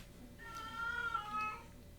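A cat meows in a drawn-out, moderately loud call lasting about a second, over a quiet indoor background with no talking.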